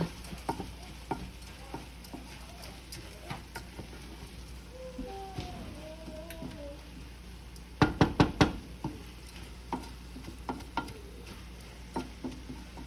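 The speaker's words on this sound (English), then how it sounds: "I'm gonna add the rice" Rice goes into a pan of cooked-down tomatoes, with a soft sizzle under stirring, scraping and a quick burst of knocks from the utensil against the pan.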